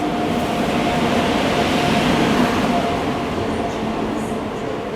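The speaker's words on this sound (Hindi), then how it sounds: "फाइनली अपनी Jhansi Pune special train enter कर रही है WG9HC लोकोमोटिव के साथ" Jhansi Pune Special train arriving behind a WG9HC locomotive, a continuous loud rumbling roar with a steady hum, close by throughout.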